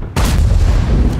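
The Jagdtiger Prototype's 12.8 cm tank gun fires in World of Tanks: a single loud, sudden blast after a brief quiet moment, followed by a long, heavy rumbling tail.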